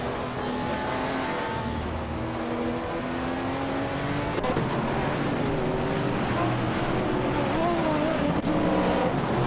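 Video game race cars battle closely, their engines blaring loud and continuous with shifting pitch as the cars rev, shift gears and jostle for position.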